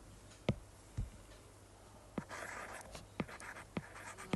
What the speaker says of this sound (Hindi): नेट मैं लिखता हूँ यहाँ पर